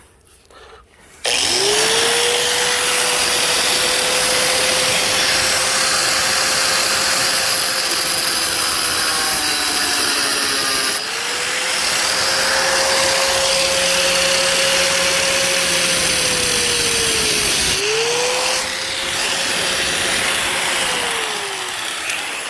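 A cutoff wheel grinds through a metal stove cover in three long, loud passes, each with a steady whining tone that sags under load and stops abruptly between cuts.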